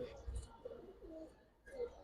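Giribaz pigeons coo in low, soft bursts, faint and close, with a pause between calls.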